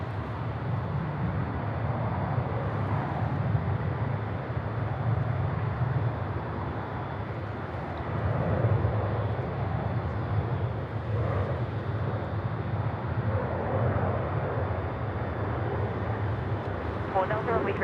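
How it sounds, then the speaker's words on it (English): A Velocity aircraft taking off at Sydney Airport, its steady engine roar broad and continuous at a distance, mixed with wind rumble and background talk throughout. "There's a Velocity aircraft is going off first, so we'll see that one go."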